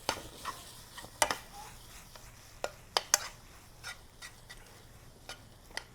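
Béchamel sauce is stirred in a pan with a utensil, giving soft irregular scrapes and light taps against the metal over a faint background hiss.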